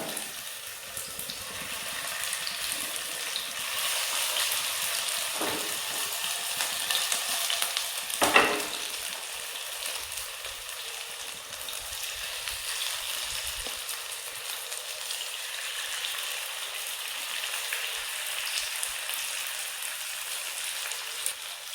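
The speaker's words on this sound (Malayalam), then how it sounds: "അപ്പോൾ ചിക്കൻ എല്ലാം ഈ പാനിലേക്ക് ഒന്ന് സെറ്റായി കൊടുത്തിട്ടുണ്ട്" Chicken pieces sizzle in oil in a pan, a steady close frying hiss that carries on throughout, with a couple of sharper crackles and spits midway and no talking.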